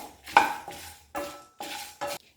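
Cumin with Kashmiri and ordinary dried red chillies fried in a pan for a jackfruit seed varuval, heard as four distinct bursts of stirring with metallic clinks and scrapes, close and moderately loud, separated by short pauses.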